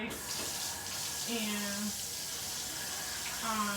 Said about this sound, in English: I drain the water.